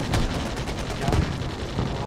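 Heavy sustained gunfire from the M11 Babar Marauder mech's minigun on a Starship Troopers battlefield on Klendathu, a dense continuous roar of rapid shots with booming bursts, loud and close throughout.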